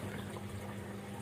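Water carrying small fish, including Oryzias javanicus and young predator fish, is poured into an artificial mangrove, giving a steady, soft splashing and gurgling flow with no talk.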